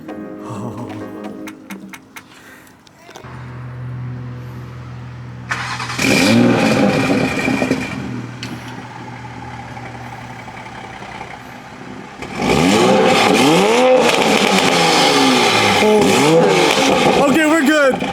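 A Toyota MK5 Supra with a Boost Logic titanium exhaust starts up, idles, then revs hard in repeated loud bursts, close by, with people talking over it.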